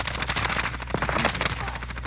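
Rapid automatic pistol fire in a video game, a quick run of close, sharp shots in a steady burst that runs under faint talk.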